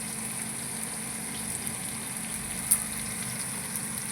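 Masala sizzles as it fries and sautés for chicken biryani, a steady soft hiss of frying throughout with one small pop near the end.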